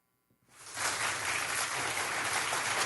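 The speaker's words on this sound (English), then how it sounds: "Some people think I use that applause button too much" A radio studio applause sound effect bursts in after a brief quiet and holds as a dense, steady clapping roar.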